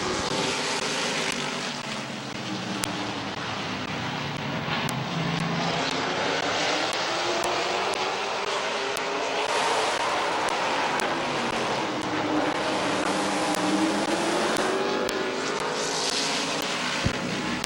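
Race cars starting an 8-lap race at Midvale Speedway: a continuous roaring drone of several engines that rises and falls as the field passes, fairly loud and sustained without talk.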